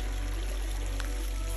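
A small river flowing through a forest, a loud, continuous pouring rush of water heard up close with a steady low rumble and no speech.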